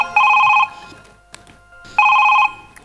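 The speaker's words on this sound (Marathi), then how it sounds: "फोन आला." A telephone rings loudly in two separate bursts of electronic trilling bell, each about half a second long and separated by a quiet gap of over a second.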